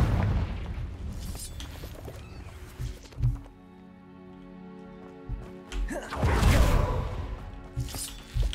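Blasting spell explosions go off in Hogwarts Legacy, heavy booming bursts with rumble, one after a quiet stretch and a louder, longer blast later amid ambient game noise.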